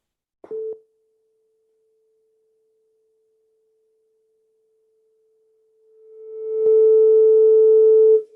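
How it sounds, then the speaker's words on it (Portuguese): Pure electronic sine tone at the note A (central A) for a physics lesson: a brief beep, a long steady faint hum of the same pitch, then the tone swelling up loud and holding steadily at the end. "Então, vou colocar, por exemplo, um Lá central, tá?"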